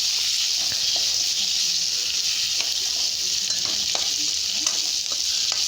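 Tomatoes sauté in a pan for garlic chutney, giving a constant, even hiss of sizzling oil with occasional soft stirring scrapes, close and steady throughout.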